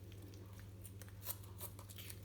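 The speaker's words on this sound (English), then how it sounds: "why not try it with a pair of kitchen scissors just to start off?" Kitchen scissors snipping through the skin of a whole chicken being jointed, giving faint, close crisp cuts and small tearing sounds over a low steady hum.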